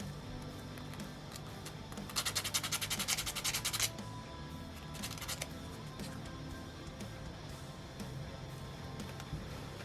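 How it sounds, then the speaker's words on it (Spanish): A small part from a Utahraptor 3D model kit is sanded by hand in a burst of quick, faint rubbing strokes of roughly two seconds, then a few softer scrapes follow against quiet background. "Vamos a lijar un poco."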